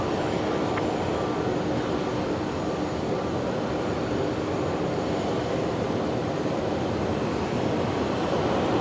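An airliner taking off from runway 01 right at Brisbane Airport, a continuous broad engine roar that stays steady and loud for the whole stretch, no voices.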